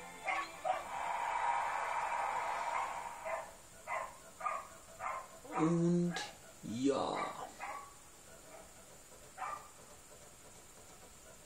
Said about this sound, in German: Ich hoffe, er hört meinen Hund nicht.